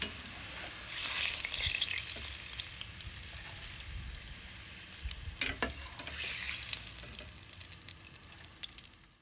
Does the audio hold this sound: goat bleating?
no